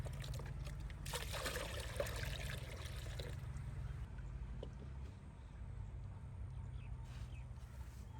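Water pours steadily into a bucket holding mustard cake fertilizer, a continuous close splashing trickle that is strongest early on and then settles into a softer, lower flow with no talking.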